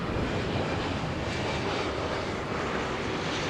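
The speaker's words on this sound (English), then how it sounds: "There's planes everywhere, airlines I've never even heard of." Airplanes at Los Angeles International Airport (LAX) on an evening: a steady, distant jet engine rumble with broad airy noise and light wind, continuous and fairly faint, with no voices.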